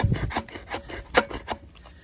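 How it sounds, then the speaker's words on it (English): Short, close scraping strokes as the 90-degree spine of a knife shaves wood, several quick rasping passes in an uneven rhythm, fairly quiet. "let's use this 90-degree spine, get some shavings"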